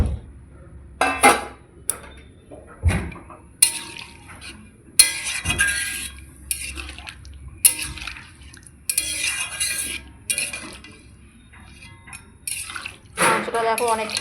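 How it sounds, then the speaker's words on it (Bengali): Hot water poured into a pot of cooking mutton, then potatoes dropped in: repeated close clanks and splashes of metal and liquid, with pauses between them. "গরম জল করে রেখেছিলাম, দিয়ে দিলাম গরম জল। তার সঙ্গে আমি আলুটাও দিয়ে দেবো।"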